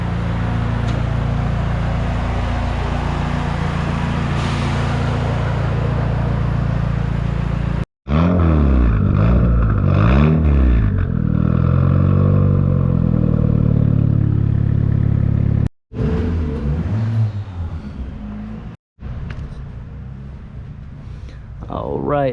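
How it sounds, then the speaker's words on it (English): Engine of a Honda CRX rally car running on a dyno, a steady loud mechanical drone broken by brief cutoffs, with talk over parts of it. "There's a car idling on the dyno."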